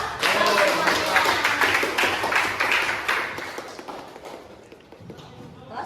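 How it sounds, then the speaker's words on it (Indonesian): Schoolchildren in a classroom clapping hands together, loud and fast at first, then thinning and fading, with voices mixed in. "Ayo tepuk tangan dulu ya"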